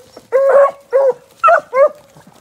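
Sled dogs in a dog team give four loud, close, tonal barks in quick succession, with faint yips between them.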